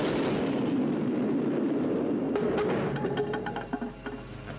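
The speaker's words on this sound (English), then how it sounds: "Let's see how this one matches our Seattle explosion." A deep, rumbling blast rolls on for a few seconds, then breaks into crackling and popping debris sounds as it fades.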